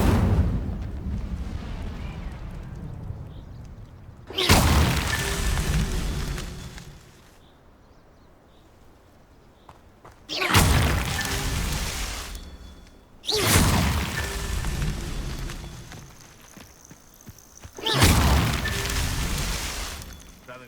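The Incendio fire spell cast in Hogwarts Legacy bursts out four times as loud, roaring whooshes of flame. Each blast lasts a couple of seconds, with quieter gaps between them.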